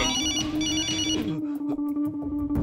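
A telephone rings with a bright electronic tone, repeating in short bursts over a low steady hum, fairly close and clear.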